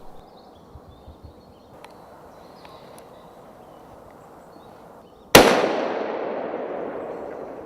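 A single loud rifle shot at a buck during a hunt cracks sharply after a quiet stretch of faint outdoor ambience, then rings out and decays slowly.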